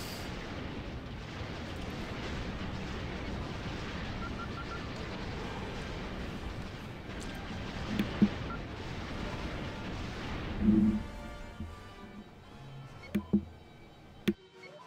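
A space platform blowing up during combat in Star Wars: X-Wing Alliance: a long, rumbling wash of explosions and blasts rolls for about ten seconds, then thins out into a few sharp separate bangs and pops.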